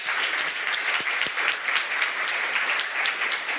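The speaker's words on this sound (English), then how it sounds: "Let's give an applause." Panel-event audience applause fills the room as a dense, even roar of many clapping hands, sustained without a break for several seconds, with no speech over it.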